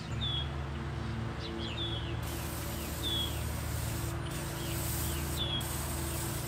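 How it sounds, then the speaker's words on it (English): A power washer's steady, hissing spray runs continuously under a constant mechanical hum while cleaning a Cadillac, with a few faint bird chirps in the background. "get the old power washer out, spray it down, clean her up real nice"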